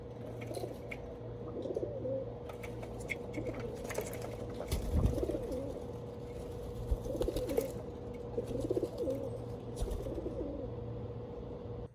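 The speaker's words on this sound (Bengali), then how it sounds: "এই যে পায়রাগুলো সব এসে গেছে খেতে" Pigeons coo in repeated soft, low rolling calls at moderate distance, over a steady background hum with occasional faint rustles.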